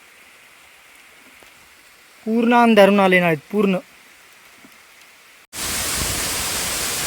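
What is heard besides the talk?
heavy rain pouring in a mountain gully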